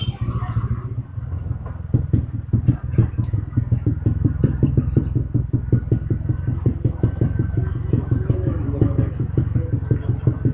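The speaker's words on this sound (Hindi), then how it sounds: "क्या पटाखे मार रही है मेरी बाइक" Motorcycle engine popping and backfiring while riding a mountain road from Old Manali, close and loud, with a rapid, uneven train of thumping pops throughout and no talking.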